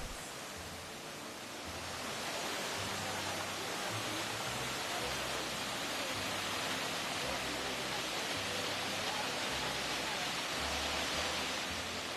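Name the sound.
Iguazu Falls waterfalls in Argentina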